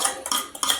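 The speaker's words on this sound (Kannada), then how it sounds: "ಸಣ್ಣ ಸಣ್ಣ ಮಿಕ್ಸ್ಚರ್ ಉಂಟಲ್ವಾ, ಅದನ್ನು ಮಿಕ್ಸ್ ಮಾಡ್ತಾ ಇದ್ದಾಳೆ." Spoon scraping and clinking against a metal bowl while mixing churumuri, a roadside puffed-rice snack with chili powder, oil and salt, a few quick, bright, close scrapes in rapid rhythm.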